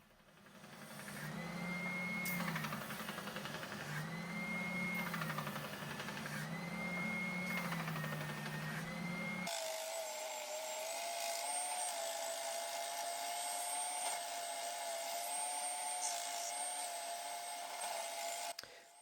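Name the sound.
sanding a wooden bandsaw reindeer, sped up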